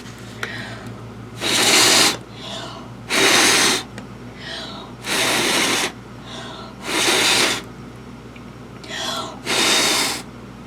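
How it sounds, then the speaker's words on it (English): Someone blows air in several long, strong bursts onto poured acrylic paint, each breathy rush lasting about a second with pauses and faint breaths between, close and loud. "I'm going to blow in the center and hopefully not get it on my glasses and see what happens."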